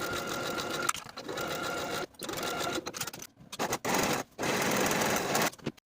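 Sewing machine stitching the underarm and side seams of a striped boxy top, a close, loud mechanical whir in several bursts broken by short stops.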